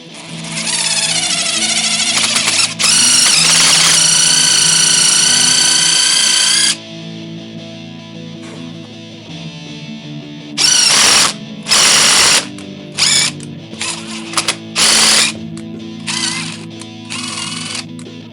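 An impact driver fitted with an extension drills a quarter-20 hole during a bead roller modification. Loud bursts of ratcheting, hammering whir come first in one long run, then in several short, sharp pulses separated by quieter pauses.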